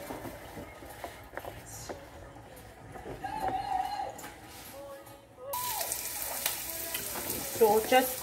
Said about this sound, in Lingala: toche mafuta na biso na moto, totia sikoyo ba épice na biso.